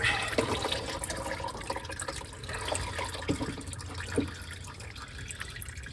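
Used motor oil drains from a car engine during an oil change, a soft uneven trickling stream with a few faint metallic clinks, close and quiet, with no talking.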